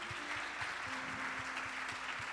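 Steady applause from a church congregation, with a faint low hum and soft rhythmic thumps underneath.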